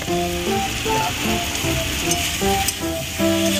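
Egg curry sizzles steadily in a pan at close range, a continuous loud frying hiss with a faint tonal hum running behind it and no talk.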